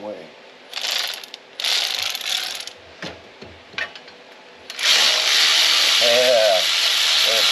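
Ratchet wrench clicking on exhaust bolts of an OBS Chevy Suburban during a header install, with bursts of rapid ratcheting and a steady whirring stretch near the end, plus brief background voices.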